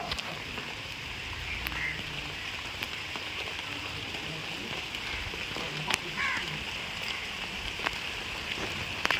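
Light rain falls outside, a soft, even patter and hiss of drops on surfaces with a few sharper drips, heard from nearby at a low, steady level.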